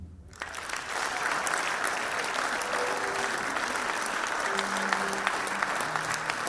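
Applause from the audience at a youth crime prevention indaba in eThekwini, KZN, a sustained, dense clapping that begins within the first second and holds steady to the end.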